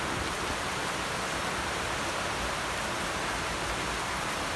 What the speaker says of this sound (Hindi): ऐसा बाहर में बारिश चल रहा है, ऐसा ठंडा ठंडा आरामदायक वेदर है